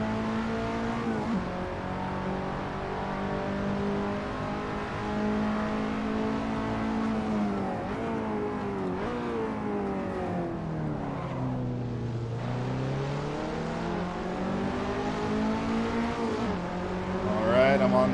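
A KTM X-Bow race car with no traction control runs at Red Bull Ring in a sim racing game. The engine drones continuously, its pitch climbing and dropping through gear changes and corners, with talk over it.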